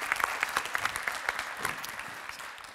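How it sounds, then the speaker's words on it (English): A keynote audience at a WordCamp event applauds briefly, giving a burst of dense clapping that gradually thins out. "I think you're worth a round of applause just for that."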